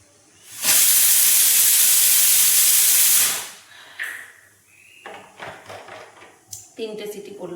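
A pressure cooker cooking rice lets off a loud, steady hissing whistle of escaping steam for about three seconds, then it cuts off and quieter kitchen clatter and a few spoken words follow.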